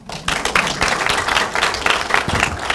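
A crowd at a town-hall style youth dialogue in Ulsan breaks into brisk applause after a short pause. The clapping is loud and dense, with a few sharp individual claps standing out, and runs without talk.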